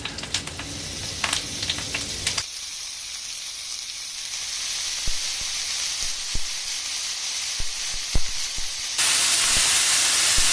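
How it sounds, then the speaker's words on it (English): Beef tips searing in a hot pan give a steady, loud sizzle and hiss with occasional crackles and stirring clatter, the frying noise swelling louder near the end, with no talking. "now that we've got our meat seared"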